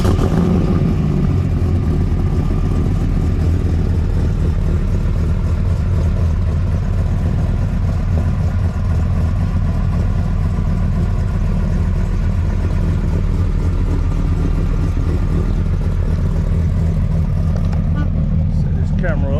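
Engine of a 765hp Viper-powered classic truck running steadily at idle with a throaty low rumble, fairly loud and close, with people talking over it.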